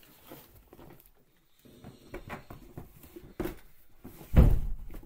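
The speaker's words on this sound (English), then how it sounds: "Someone slammed the door." A door slams shut indoors with a loud, sudden thump near the end, after a few softer knocks and clatters in an otherwise quiet room.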